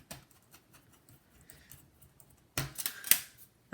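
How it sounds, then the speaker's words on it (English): Screws being driven back into the bottom cover of a Dell XPS 13 9360 laptop: faint small ticks and handling noise at first, then a louder, close burst of scraping and clicking near the end. "And now you can just screw the cover back on."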